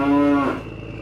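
A single cow moos once, a loud, close, harmonic low call lasting about half a second, then fading into quiet.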